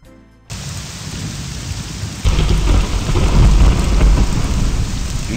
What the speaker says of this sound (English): I need to install that quieter rain mod.